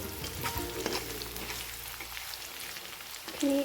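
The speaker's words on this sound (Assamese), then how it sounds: "পিঁয়াজখিনি ভাজি লৈছোঁ প্ৰথমতে" Onions fry in a pan at the start of a home-cooked Assamese fish curry. The sizzle and crackle of oil is soft and continuous, and a short faint tone comes near the end.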